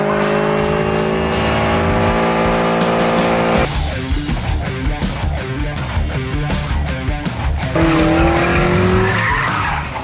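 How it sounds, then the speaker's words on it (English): A rotary-swapped Mazda Miata does a long tire burnout: loud, sustained tire squeal over a high-revving engine, with the screech wavering and stuttering midway before rising again, close by with no voices. "there was one thing I needed to do, and that was the world's longest burnout"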